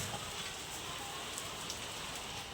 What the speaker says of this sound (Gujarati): તો આવી ગયો ધબધબાઈને પાછો વરસાદ